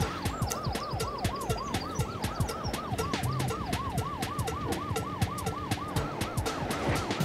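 A video game ambulance siren in The Stretchers wails in a fast, regular up-and-down cycle, steady and prominent throughout, over a busy bed of rhythmic clicking and game effects.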